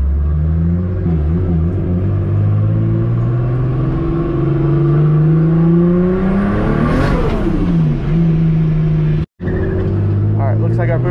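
A turbocharged car with a Pulsar GTX3575R turbo revs and accelerates hard, a steady loud drone rising in pitch, peaking, then dropping back, with a brief cut near the end.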